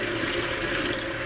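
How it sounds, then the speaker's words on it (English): Cool tap water runs into a big mixing bowl in a kitchen, a steady close rush of pouring water filling the bowl, with no talking. "you're going to get a big mixing bowl and you're going to fill it up with water"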